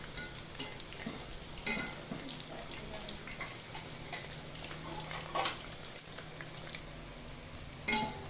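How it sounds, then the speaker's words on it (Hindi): Pakoras bubble and sizzle in hot oil over a low flame, a soft continuous crackle close by, with occasional brighter pops and faint stirring clinks. "पकौड़ों को हम हल्की आंच पे पकाएंगे"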